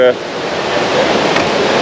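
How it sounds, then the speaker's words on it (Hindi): Ravana Waterfall in Sri Lanka roars as a steady, broadband wash of falling water, continuous and fairly loud throughout. "पानी की शोर तो काफ़ी तेज़ से आ रही है"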